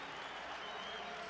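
A basketball crowd at a Northwood University versus Kentucky men's game applauds steadily, a dense even clatter of clapping from many hands at a distance.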